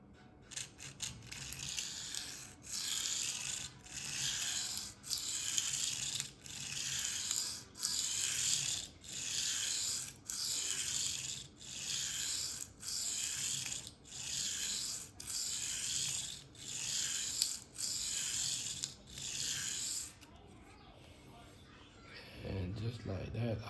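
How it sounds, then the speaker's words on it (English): A Spyderco Endura Wharncliffe knife in K390 steel is drawn across a coarse 120 grit resin bonded diamond stone in regular strokes, each a loud gritty rasp followed by a brief pause, about a dozen passes. "Wharncliffe is quite easy to sharpen because on this straight line you just need to maintain your angle on the stone"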